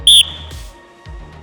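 During sports drills, one short, sharp, piercing whistle blast sounds right at the start, loud and close. Low thumps and background rumble follow.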